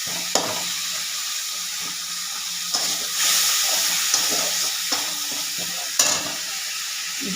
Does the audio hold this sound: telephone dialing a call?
no